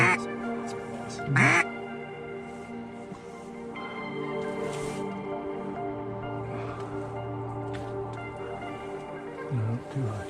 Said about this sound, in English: we got two up top. Two ducks up top.